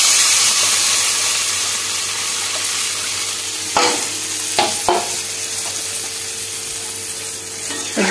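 Water mixed with ground mustard and green chilli paste goes into hot spice masala for a hilsa fish curry, setting off a loud, steady sizzle with a few sharp clanks of a spoon against the pan.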